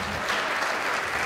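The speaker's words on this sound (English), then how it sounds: "So all claps for you again." Audience clapping after a vote of thanks at an event, a short, loud, dense burst of many hands applauding together, steady throughout.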